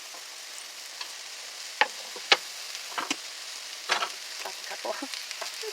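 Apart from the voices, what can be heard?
sliced mushrooms frying in hot oil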